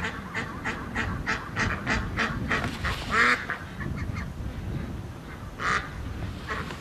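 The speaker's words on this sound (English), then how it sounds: "the Canada geese are freaking the ducks out at the lake." Canada geese honk repeatedly and ducks call on a windy lake, a steady run of close, fairly loud honks and quacks over a constant rush of wind, with one louder burst of calls near the middle.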